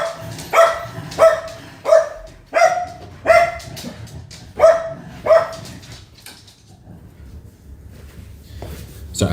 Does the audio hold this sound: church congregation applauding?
no